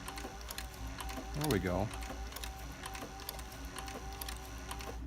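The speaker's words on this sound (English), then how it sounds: "Now that's truly one-handed sewing right there" A cowboy sewing machine runs under one-handed hand control, giving a low mechanical hum with intermittent ratcheting clicks and taps, while a person speaks briefly in the middle.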